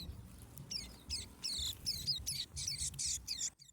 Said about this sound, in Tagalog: bigla ulit tayong nakarinig ng isa pang huni ng inakay dito mismo sa mga maliliit na damo